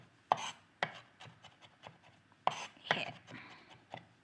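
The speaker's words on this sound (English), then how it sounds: "It's easier to just cut it into small pieces of our garlic." Garlic is chopped finely with a knife on a cutting board, sharp knocks at irregular intervals with softer quick taps between, close and fairly quiet, a brief spoken word in the middle.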